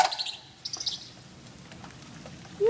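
A crane calls in a front yard, a few feet away, with a couple of short, bright chirping cries near the start and middle of an otherwise quiet moment.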